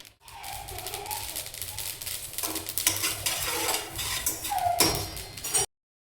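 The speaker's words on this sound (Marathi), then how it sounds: "तीळ भाजायला घेते." Sesame seeds roasting and being stirred in a dry pan, a steady scraping and rustling with light crackle throughout, close and fairly loud, ending abruptly near the close.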